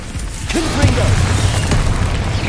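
Confringo spell blast in Hogwarts Legacy, a loud low boom with crackling impact that rolls on beneath brief game sounds and a faint voice.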